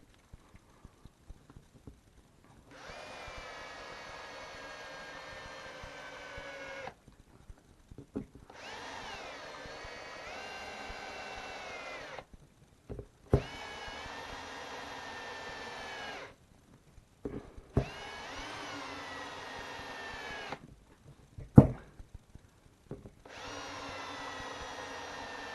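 Power tool tightening a Proline MX43 Badlands wheel on a 5th scale RC truck (Losi DBXL-E or Rampage MT), with steady whirring bursts of several seconds each, five runs separated by short pauses and clicks, close and fairly loud.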